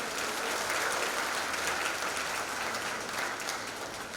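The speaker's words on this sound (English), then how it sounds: "Let us give the graduates a big round of applause." Graduation ceremony audience applause, a broad, even wash of many hands clapping that holds steady for several seconds, moderately loud with no voices over it.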